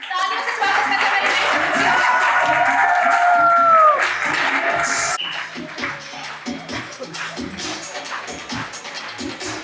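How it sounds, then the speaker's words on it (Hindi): Studio audience applauding to welcome child actors on stage at a television show anniversary celebration, a steady wash of clapping that fades into scattered claps and crowd murmur. "जोरदार तालियों से स्वागत करते हैं।"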